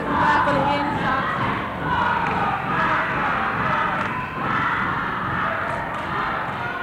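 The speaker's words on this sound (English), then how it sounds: "The crowd gets wild for the end shots." Dense, continuous roar of a crowd in a high school gymnasium during a basketball game, with cheering swelling and dipping steadily throughout, no single voice standing out.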